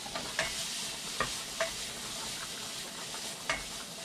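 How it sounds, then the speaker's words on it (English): Glass noodles and green beans for japchae being stirred in a hot pan: a faint steady sizzle with several light scraping clicks of the utensil against the pan, close by and with no talking. "I'm going to give these noodles a bit of a stir."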